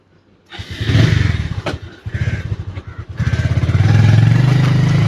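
A motorcycle engine runs loud and close, its throbbing exhaust pulses briefly dropping near the two- and three-second marks, then swelling into a steadier, stronger rev toward the end, with no talking.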